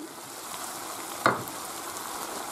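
Tomato sizzles and fries steadily in a pan for a chicken and sausage rice dish, with a brief clatter of stirring midway and no talking.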